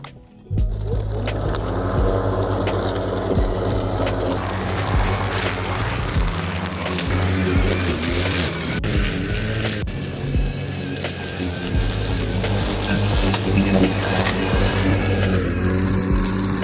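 A battery-powered lawn mower running and cutting grass, its motor a steady loud whir with a constant hum throughout, starting abruptly after a short quiet moment, no talk.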